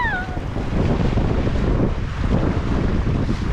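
Rough surf washes through an ocean rock pool with a sandy bottom and seaweed, a steady roar of wind and breaking water close to the microphone, with a brief high whistle at the start.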